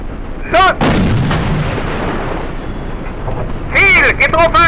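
Tiger tank cannon fire in the World War II game Darkest Hour: Europe '44-'45, with two sharp, loud booms at the start and a cluster of reports near the end, separated by rumbling battle noise and shouted crew commands.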